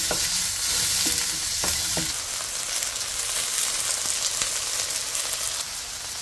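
Chopped onion frying in the oil left from frying tofu, giving a loud, steady, close hiss of sizzling, with a few utensil clinks early on and no talk.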